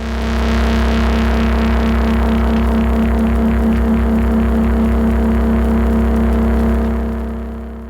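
A sci-fi bass pad synth with frequency shifter feedback drones loudly and steadily, a rhythmic pulsing oscillation growing more intense across the sustained tone before it fades out at the end.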